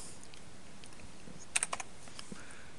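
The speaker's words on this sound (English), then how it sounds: "when you hit that hotkey button, like I'm going to do right now, it'll open up the editor for you" A few sharp keystrokes on a computer keyboard as the F1 hotkey is pressed, a quick cluster of close, crisp clicks followed by a couple of fainter taps in an otherwise quiet room.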